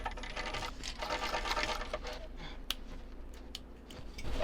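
A sewing machine stitches a quarter-inch seam across a shoulder bag at a 3.5 stitch length, a soft, steady whir with light clicks and rustles of fabric, heard close and fairly quiet.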